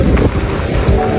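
A mountain river rushes close by, a loud, continuous, wind-like roar of flowing water that holds steady over a short moment.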